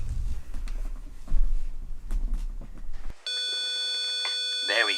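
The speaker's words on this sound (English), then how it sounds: "It goes on for 1000 microseconds, which is effectively 1 millisecond, and off for 1000 microseconds. So that will be a 500 Hertz tone." A steady electronic tone sounds from a small speaker driven by an AA battery amplifier circuit with a 10K resistor, switching on partway through after a stretch of rustling handling noise and continuing evenly to the end.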